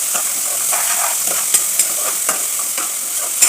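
Cucumber pieces with green chilli frying in hot oil in a pan sizzle loudly and steadily while a spoon stirs them, giving a few sharp scrapes and clicks close up.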